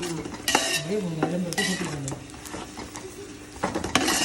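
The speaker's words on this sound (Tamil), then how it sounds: "இப்போ இதை இதில் போட்டு வதக்குறேன்" Chili and tomato sauté in a pan for mutton biryani, with a spoon or ladle repeatedly scraping and clattering against the metal amid sizzling; a voice talks briefly in the background.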